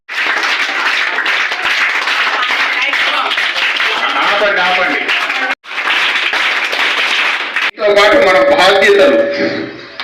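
Students clap at a village Republic Day sports competition in Bontapalli, a loud, dense burst of applause that runs almost unbroken with two brief pauses, with voices rising over it near the end.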